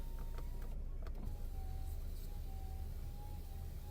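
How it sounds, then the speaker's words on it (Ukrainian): Electric power window motor in a Volkswagen Golf V hatchback with a 1.6 MPI engine and automatic gearbox, a steady whining hum close by that runs for the whole stretch, with faint clicks early on. "склопідйомник працює"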